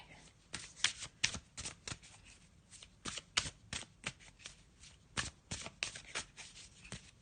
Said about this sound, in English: Just going to have a little shuffle of these black and white Faulkner deck